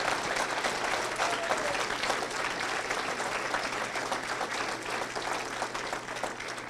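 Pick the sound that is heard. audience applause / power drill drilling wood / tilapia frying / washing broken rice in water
audience applause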